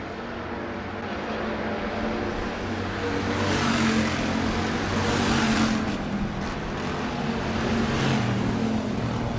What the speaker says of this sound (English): Oh, Fink looking a little bit loose. Slides the car down across the nose of Bruck